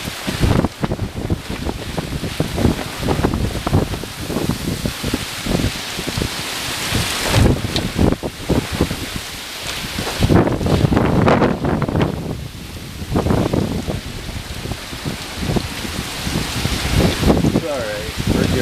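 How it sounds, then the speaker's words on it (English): Hurricane Ian's gusting wind and heavy rain roar continuously and loudly close to the microphone, with wind buffeting the mic and surging in repeated gusts and no break throughout. "Major gusting wind."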